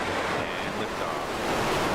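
The Blue Origin New Shepard rocket roars in a broad, continuous rumble during liftoff from West Texas, steady and loud throughout the short stretch, much like wind or surf.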